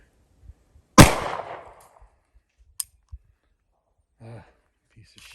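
A single loud, close shot from a Hi-Point C-9 pistol fired one-handed, with a decaying tail, then a few faint clicks and a short murmur of voice.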